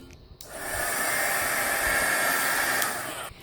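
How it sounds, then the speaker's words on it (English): Heat tool blowing a steady airy whoosh for about three seconds, close and fairly loud, drying black paint splats on a mixed media monochrome artist trading card. "Heat set this again."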